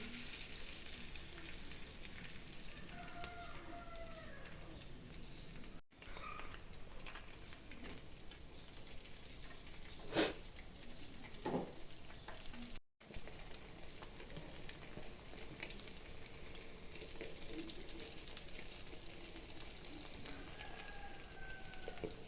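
Eggs fry in a pan for an egg masala curry, giving a soft, steady crackling sizzle throughout with occasional small pops and a brief clink, faint and without talk.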